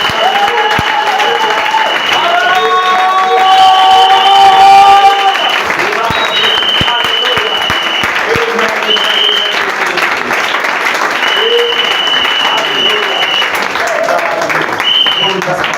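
A church congregation applauds and cheers for Jesus in sustained, loud clapping with crowd voices, while a sustained keyboard chord rings beneath the noise.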